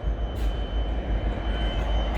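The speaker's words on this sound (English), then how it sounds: "We'll watch this train go and then we'll go back on the centre platform." A train pulls out of Crewe railway station with a loud, steady, close rumble of wheels and carriages that continues without a break and with no voices.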